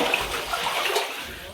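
Floodwater sloshing inside a flooded house in Vaikom, Kerala, during the 2018 flood: a close, steady wash of moving water with soft swishes, a low voice faintly present.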